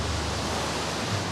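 Violent surf crashes at a beach, a dense, steady roar of churning whitewater filling the air without a break, with no voices heard.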